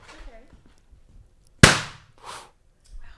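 A balloon bursts with one loud, sharp bang at a dating show, cutting through quiet murmuring, followed by brief voices afterward.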